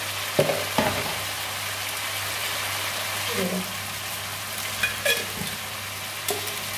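Potatoes and cauliflower stir-fry in a pan with cooked spice paste: a continuous soft sizzle with intermittent scraping and clattering stirs. A low steady hum runs underneath, and a brief voice is heard.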